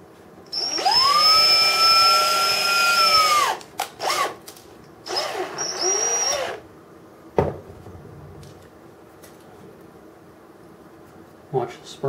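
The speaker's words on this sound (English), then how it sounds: "Drill the rivet out." Power drill drilling out a rivet during the teardown of a Liebherr LTM 1300 crane, a loud whining burst of a few seconds followed by shorter bursts and clanks, with a person speaking nearby.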